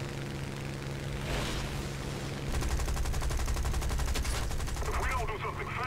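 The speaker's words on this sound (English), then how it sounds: "And I'm being shot at." Rapid bursts of automatic gunfire in the game War Thunder rattle in quick succession, steady and dense, with a few muffled booms underneath.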